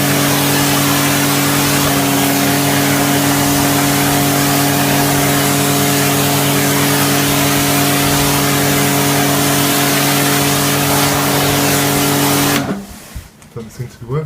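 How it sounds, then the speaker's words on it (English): A Karcher T450 T-Racer surface cleaner runs on a pressure washer with a loud, steady motor-like drone and hum for about twelve seconds, then cuts off abruptly, leaving quiet handling sounds. "So I got this thing, which is the surface cleaner, and I'm going to try and clean it up now."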